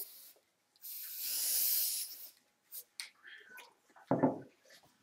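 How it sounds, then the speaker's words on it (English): A steady hiss of aerosol spray adhesive lasting over a second, applied in a line around the edge of an inspiration board, followed by a few faint scuffs and a brief soft thump. "just spray a small line around the outside"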